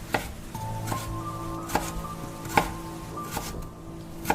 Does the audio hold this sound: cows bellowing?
no